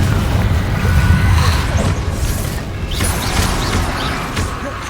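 Confringo explosive spell fired in Hogwarts Legacy, a dense loud stretch of booming blasts, crashing impacts and crackling debris layered over game ambience, steady throughout with no talking.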